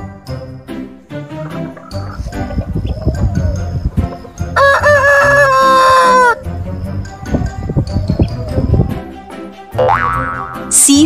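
A rooster crows loudly and clearly, with a long rising call standing out amid cartoonish music and bouncy sound effects.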